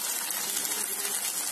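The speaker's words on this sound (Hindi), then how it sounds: "पानी ऐड करूंगी" Water poured into a cooking pan of potato and soybean curry, a steady loud gushing splash with no talk.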